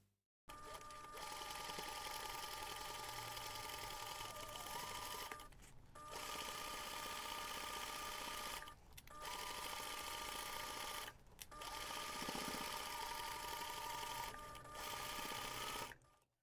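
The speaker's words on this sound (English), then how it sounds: "take this to the machine and baste the top part of your panel." A sewing machine stitches a basting line across the top of a laptop bag panel in bursts of steady whirring, broken by about four brief pauses. The whirring is close and clear, with no talking.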